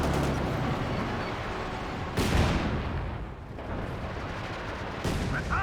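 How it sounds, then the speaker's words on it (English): Gunfire hitting a Panzer IV tank in the strategy game Company of Heroes 2, heard as a dense, continuous barrage of shots and impacts with heavier blasts near 2 and 5 seconds, loud and alone without talk. "the Sheer Panzer IV is taking some fire, quite a bit of it"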